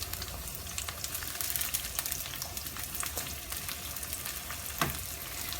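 Onion, garlic and ginger fry in oil for a simple onion-tomato gravy, giving a constant crackling sizzle with scattered pops and light stirring noises and one brief louder clatter near the end, close and fairly soft.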